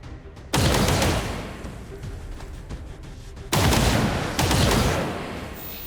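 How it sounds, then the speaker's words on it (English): Heavy gunfire in the XCOM 2 video game, shooting at a Bio-Zerker, two loud bursts of rapid shots with a brief lull between them. "I'm going to shoot the Bio-Zerker instead"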